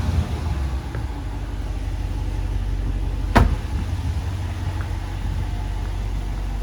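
A 2017 Dodge Challenger R/T Shaker with a six-speed manual in Destroyer Gray idles steadily with a deep, loud rumble, broken once by a short sharp knock midway.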